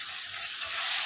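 Chopped tomatoes hit a pan of frying garlic and green chilli paste with turmeric, making a loud, continuous close-up sizzle with faint stirring.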